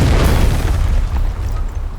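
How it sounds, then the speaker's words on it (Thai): A loud, deep explosion in the video game Delta Force booms right at the start, its rumble rolling on and slowly fading over the following couple of seconds. "ว้าระเบิด"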